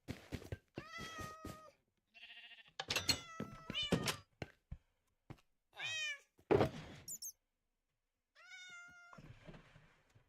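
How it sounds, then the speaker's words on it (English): A brown and white cat in a video game meows repeatedly, the clear, tonal calls arriving in separate bursts across the span with short gaps between them, along with a few soft thunks. "we got a brown and white kitty"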